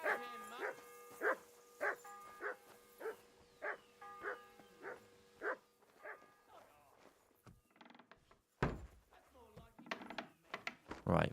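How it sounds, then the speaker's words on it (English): In Kingdom Come: Deliverance II, a dog barks on command, a regular series of about a dozen close, sharp barks, followed by wooden creaks and clunks of handling objects. "Sit and bark."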